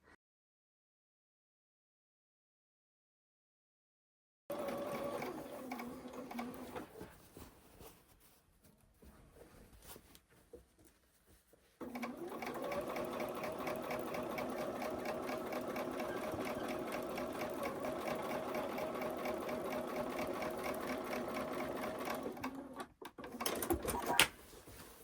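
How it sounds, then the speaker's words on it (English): A sewing machine stitches quilt pieces in close, steady runs of rapid mechanical whirring, with a short burst first, a pause, then a longer continuous stretch. "Naughty me, I sewed over a pin"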